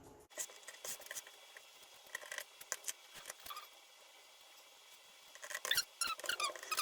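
Scissors snip through fabric for a no-sew bow, a quick run of sharp close cuts with short pauses between, quieter rustling in the gaps and a denser burst of snips near the end.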